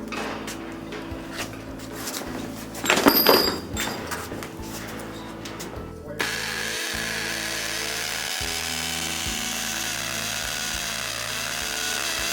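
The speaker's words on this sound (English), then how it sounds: "When finalizing the tightening of the screws" Screws on a GearGrid locker are tightened with a power driver, giving short close whirring bursts and clicks, then a long steady motor whine that holds at an even level.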